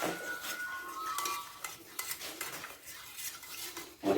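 A spoon stirs sugar into fresh orange juice in a glass or bowl for orange jelly, making a continuous scraping and clinking swirl with a few sharper taps, close and fairly quiet, with no talk.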